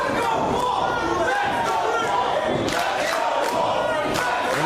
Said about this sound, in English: listen to the crowd here at the Franklin Horner Community Center